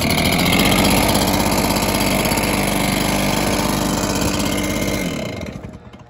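A warm, engine-powered backpack leaf blower with push start runs steadily and loudly up close, with a dense buzzing drone for about five seconds before the engine winds down and fades out.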